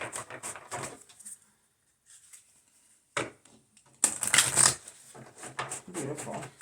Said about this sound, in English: These are easier to shuffle because they're smaller.